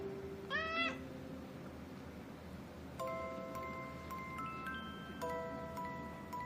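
A cat meows in reply several times, one rising call early on and then a run of longer tonal meows, close and clear over a quiet room.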